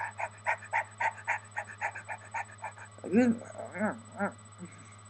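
Quick rhythmic dog panting close by for a few seconds, followed by a person speaking briefly.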